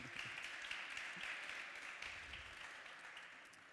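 Applause from a conference audience greets a panel moderator at a liberty-themed European event in London, a steady, fairly quiet wash of clapping that holds for several seconds and gently fades toward the end.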